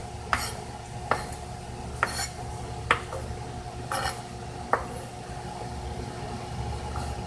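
A knife chopping ghost pepper on a cutting board, six sharp evenly spaced knocks about a second apart, close by, over a steady low hum.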